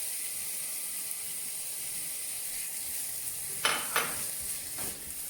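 Chopped bell pepper sautés in a pan for bulgur pilaf, a constant soft sizzle and hiss with a couple of brief stirring scrapes near the end, no voices.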